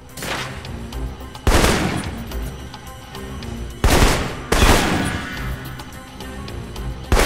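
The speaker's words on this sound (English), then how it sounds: "For long-range encounters, the assault rifle's the key." Assault rifle gunfire in a video game, several loud close bursts of rapid shots at irregular intervals over a busy background of game noise, with no talking.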